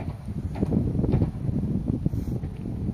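Low, gusty wind rumbling and buffeting against the microphone, continuous and fairly loud throughout, with no voices.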